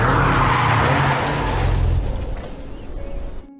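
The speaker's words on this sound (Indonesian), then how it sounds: "Pada suatu kesempatan ketika dalam perjalanan, mobilnya hampir tergelincir akibat tumpahan minyak di aspal." A car nearly skids on spilled oil on asphalt, a loud rushing engine and tire squeal that cuts off after about two seconds and fades to a quieter tail, with no talking.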